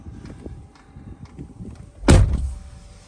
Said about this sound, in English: I'll open the door and you can see how big this car park is